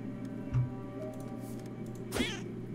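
A cat meows once in the video game Iris and the Giant, a short faint cry rising over a steady low game hum, with a quieter sound earlier in the clip.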